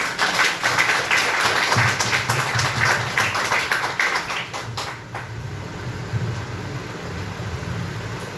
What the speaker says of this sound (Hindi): आइए हम लोग सब ताली बजा के उनका स्वागत